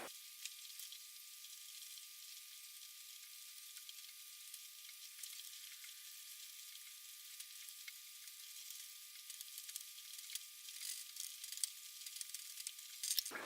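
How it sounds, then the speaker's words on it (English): Eggs sizzling in a pan while being continuously stirred for soft scrambling, a faint, thin hiss of frying throughout with occasional soft scrapes toward the end. "make sure you continuously stir those eggs"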